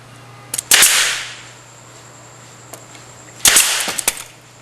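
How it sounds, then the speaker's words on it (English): Staple gun fastening material to an edge, two loud, sharp snapping shots about three seconds apart, each with a small click just before it and a short decaying ring afterward. "Now I want to attach the other side. Little glue again. Staple gun."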